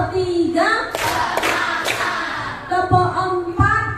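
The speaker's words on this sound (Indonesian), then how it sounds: "Tepuk 1, tepuk 2, tepuk 3, tepuk 4, konsentrasi ya." Students in an Indonesian classroom clap together in a rhythmic counting game, three loud broadband claps in quick succession set between stretches of chanting voices.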